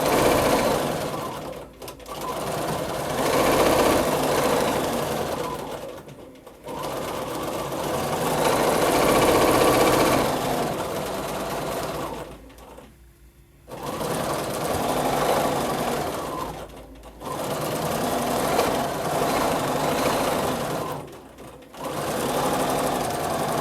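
A sewing machine hums and rattles rapidly in long bursts while free-motion quilting echo designs on a quilt, stopping briefly every few seconds before starting up again, close and clear with no talking.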